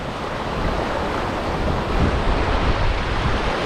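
Rushing river water surges during a storm on a Lake District hike near Scafell Pike, a dense, loud, steady roar with gusting wind noise, no voices.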